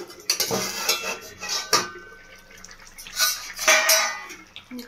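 A lid lifted off a pot of simmering rohu fish curry, sharp metallic clanks and rattles of utensils against the pot in several bursts with brief gentle bubbling between them, close and clear.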